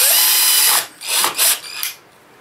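A power drill whirs briefly, then runs in a few short bursts of revving before stopping, close by, drilling into an electrical wall box.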